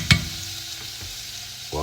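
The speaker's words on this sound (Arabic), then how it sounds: "شوية زيت حارة ونقدح فيها شوية ثوم" Garlic sizzles in hot oil, a steady close-up frying hiss with a sharp clatter near the start and a louder burst of sound right at the end.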